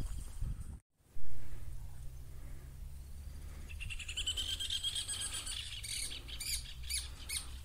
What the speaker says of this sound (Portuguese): Passarinho cantando.